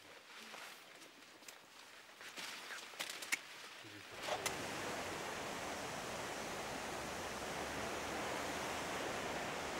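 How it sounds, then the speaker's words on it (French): A waterfall spilling out below vineyards in south-west French wine country gives a steady, full rush of falling water. It starts after a few seconds of quieter outdoor sound with some scattered knocks, then holds constant and fairly loud. "Vous voyez la cascade ? Elle sort en dessous de mes vignes."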